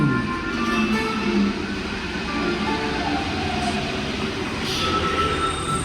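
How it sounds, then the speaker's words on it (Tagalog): Paris metro train on the line, a steady broadband rumble of wheels and carriage noise with faint high squeal, continuous and fairly close, no talk over it. "Yan po, metro. Ang train."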